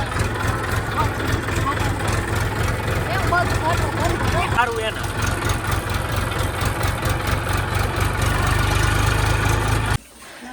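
A tractor engine idles nearby with a steady low, chugging rumble throughout, while people talk over it; the engine sound drops sharply near the end.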